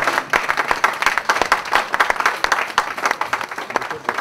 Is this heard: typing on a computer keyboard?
no